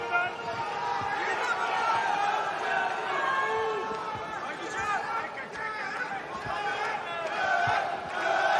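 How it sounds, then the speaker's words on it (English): Fight fans at a Glory 100 kickboxing event, many of them Turkish, keep up a steady roar of cheering and shouting from a large arena crowd, dense and sustained, with voices mixed throughout. "A lot of Turkish fans here pulling for Caceres."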